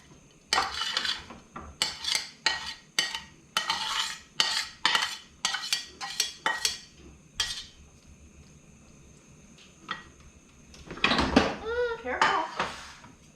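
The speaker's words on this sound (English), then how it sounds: "I'm gonna dump this onions and bacon in here" Onions and bacon tumble into a pot amid a rapid run of close metallic clatters and scrapes from utensils and cookware, followed by a quieter stretch and voices talking near the end.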